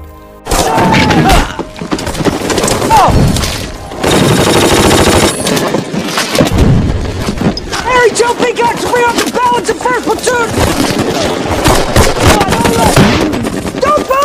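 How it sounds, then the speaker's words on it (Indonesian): Nazi machine guns firing relentlessly in a war battle scene, dense loud bursts of automatic fire and thuds running almost continuously, mixed with a dramatic soundtrack throughout. "Senapan mesin Nazi tak henti-hentinya memuntahkan peluru"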